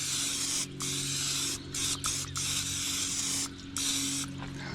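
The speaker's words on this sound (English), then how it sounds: "all I'm putting on here is just some cooking butter pan spray" Butter-flavored cooking spray hisses onto a pan in several bursts of different lengths with short gaps between them, close and fairly loud over a low steady hum.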